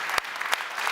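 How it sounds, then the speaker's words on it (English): Applause from a conference audience at a panel session on investment and trade finance, a short burst of steady clapping lasting under a second, fairly soft and distant with a couple of sharper claps standing out. "This deserves a round of applause, Rostislav."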